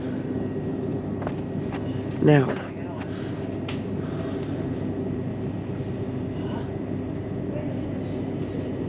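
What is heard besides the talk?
Great Northern class 387 train slowly leaving King's Cross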